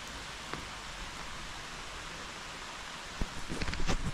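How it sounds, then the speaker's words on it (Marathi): Steady rain falls in a quiet Konkan village, a soft even hiss of drops on surfaces with a few faint knocks and rustles near the end, no speech. "पाऊस आला आहे"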